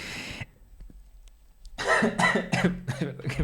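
A few rough coughs, with a short burst at the start and then a series of harsh, close coughs after a pause.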